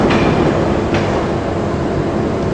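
A train pulls into a station in Istanbul during a drama scene, giving off a loud, steady rail rumble with a faint metallic clatter throughout.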